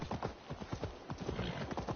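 Rhythmic clip-clop of a horse's hooves at a steady gallop in Assassin's Creed Valhalla, close and continuous, with a brief whinny-like note partway through.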